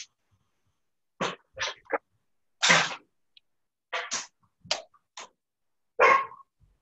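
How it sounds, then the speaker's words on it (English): Dog shut in a room, giving a series of short sharp barks or yelps spaced irregularly over several seconds, fairly close and clear against silence. "Can you guys hear my dog?"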